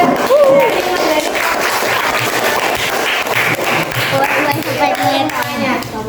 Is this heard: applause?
yes